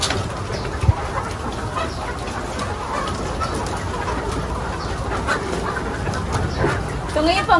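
A flock of RTL laying hens around 13 to 16 weeks old cluck and murmur in a poultry house, a busy continuous chatter of fowl with a sharp knock near the start and a person talking over it.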